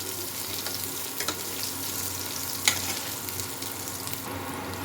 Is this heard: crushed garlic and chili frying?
yes